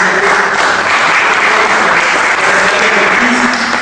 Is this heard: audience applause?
yes